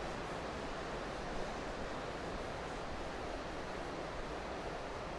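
A noisy river flows through a town on a quiet afternoon, a constant broadband rush of water steady and fairly near, with no voices and no breaks.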